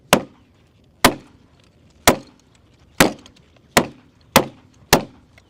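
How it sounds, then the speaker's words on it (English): A fire extinguisher slams repeatedly against riot-resistant glass, seven sharp, loud impacts spaced about a second apart, each a hard crack with a brief ringing decay, with no voices between the blows. "If somehow you're able to pull a fire extinguisher off the wall, could you break open glass?"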